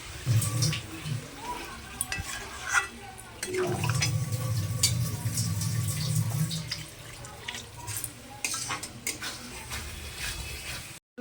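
Water poured into a pan of pointed gourd and potato curry, a sustained splashing pour lasting a few seconds amid kitchen clatter and small ticking knocks, close and moderately loud.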